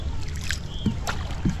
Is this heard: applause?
no